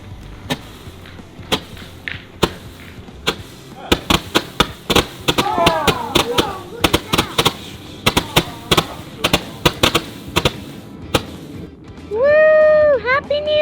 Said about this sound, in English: the fireworks gonna be this one, the biggest one in the package